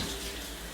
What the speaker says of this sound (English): We put the leather under the water and get it nice and soaked until it's sort of gone a little flaccid and lost its shape.